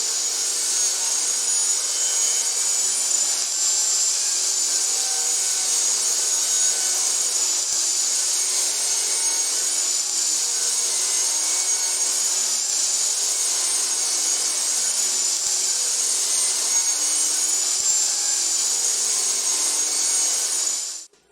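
Wood being cut for the corner posts of a wooden lantern, a steady, continuous high-pitched saw whine that runs unbroken at close range and stops abruptly at the end.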